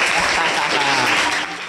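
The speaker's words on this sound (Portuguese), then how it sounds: "vamos receber, com muito barulho e com muita salva de palmas" A school audience at a TV-style event in Brazil breaks into loud, dense applause and cheering, close and continuous, with shouting voices mixed into the clapping.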